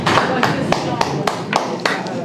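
Brief applause at a press conference on torture: a small group claps over a low murmur of voices, with several sharper, evenly spaced loud claps punctuating the patter.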